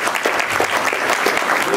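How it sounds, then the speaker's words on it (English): A comic convention audience at an Image Comics panel at the 2013 Amazing Arizona Comicon bursts into sustained, dense applause that stays loud and even throughout. "Big round of applause for John Layman."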